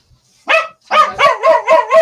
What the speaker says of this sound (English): Excuse the dog. Someone just knocked on the front door.